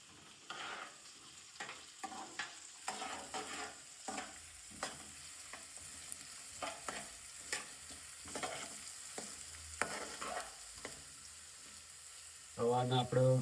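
Onions sautéing in a pan, with a quiet sizzle under repeated scraping and stirring strokes of a spatula at an irregular rhythm, and a brief louder burst near the end.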